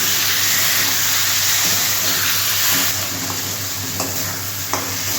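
Boiled, hand-mashed potatoes are sautéed and stirred in a pan, a loud, close sizzle with a low hum beneath, easing slightly midway, with a few scraping spoon strokes near the end.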